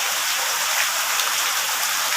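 Rain falls steadily in a dense, even hiss of drops on surfaces, close and continuous with no other sounds.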